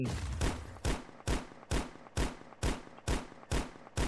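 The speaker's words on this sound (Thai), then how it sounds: "เอาแล้วนะครับปืนกลปืนกล" Machine gun fire in the mobile mech-combat game Mech Assemble, a steady run of eight sharp, loud bursts about half a second apart, each with a short decaying tail, no voices.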